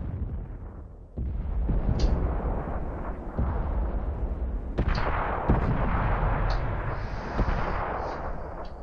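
Artillery fire in World of Tanks, heavy booming shots with a big rumbling low end, a few sharp blasts over several seconds and dense battle rumble throughout, loud and close.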